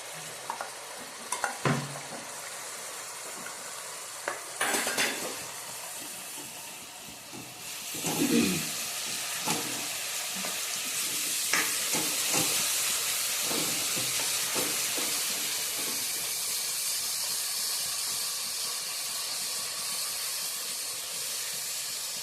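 Onion paste frying in a pan for a Kathiyawadi bottle gourd curry: a few sharp spatula knocks and a splashy drop give way to a steady hissing sizzle with occasional stirring scrapes, no talking.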